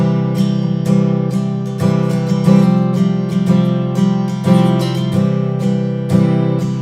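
A guitar strums a repeating chord pattern, moving back and forth between a major chord and a suspended chord with a steady rhythm, clear and close.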